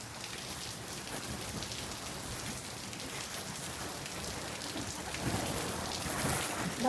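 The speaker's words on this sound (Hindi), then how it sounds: "बिजली गरज रही है, किसी की आवाज आ रही है बादलों की।" Heavy monsoon rain pours steadily on surfaces, a dense continuous hiss with distant thunder rumbling underneath, growing slightly louder near the end.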